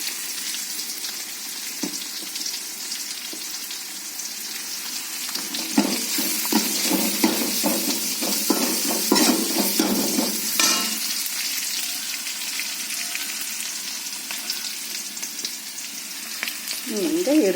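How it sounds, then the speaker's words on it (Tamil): Onions and green chillies with curry leaves frying in a hot pan, giving a steady sizzle with bursts of louder crackling and stirring in the middle, close and fairly loud, with no talking. "இப்போது வெங்காயத்தையும் பச்சை மிளகாயும் போட்டாச்சு."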